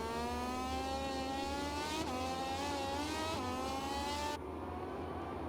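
Moto2 motorbikes in a video game race through a chicane, engines whining at high revs with shifting pitch as they brake and accelerate, loud and continuous with no voices.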